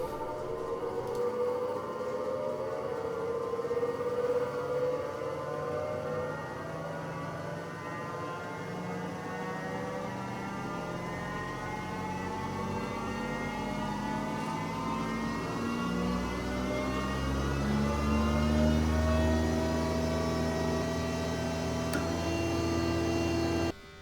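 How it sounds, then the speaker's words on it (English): A new woodworking planer motor winds up through its two-phase start, producing a steady hum with a rising whine that climbs slowly in pitch and grows a little louder over about twenty seconds, heard alone without talk. "It wouldn't really work with my new planer because it takes a while to start"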